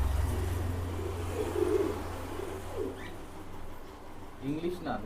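English Nun pigeons coo in low, rolling murmurs, with a steady hum beneath and a few brief bird calls near the end.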